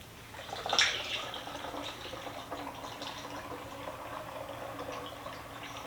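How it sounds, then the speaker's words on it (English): Water pours steadily into a jar, a soft continuous trickling with a brief louder splash at the start. "Next step is to fill the rest of this up."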